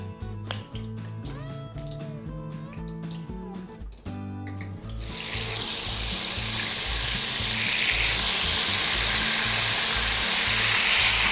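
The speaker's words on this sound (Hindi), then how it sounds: "तेल हमारा गर्म है। अब इसमें हम डालेंगे चिकन जो हमने मैरिनेशन के लिए रखा था।" Marinated chicken drops into hot oil and erupts into a loud, steady sizzle that builds and holds, following a stretch of background music.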